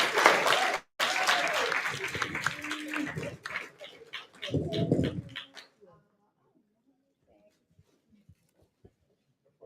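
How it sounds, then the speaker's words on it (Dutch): An audience bursts into lively clapping for a woman credited with designing branding, the applause running in uneven waves for about six seconds with a voice mixed in before it drops away to near silence. "Een applaus voor de dame die mijn branding doet"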